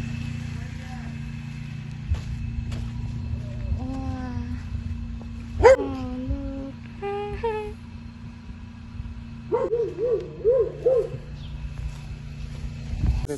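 Birds in a family's home village call in short, high chirping bursts scattered across the scene, with a longer warbling run near the end, over a steady low hum while people talk nearby.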